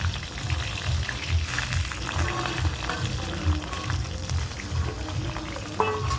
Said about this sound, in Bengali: এবার পটলটাকে ভালো করে ভেজে নেব